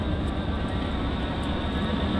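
An old cheap truck's engine idles right after starting, a steady, close, broadband rumble with no change in pace across the short stretch.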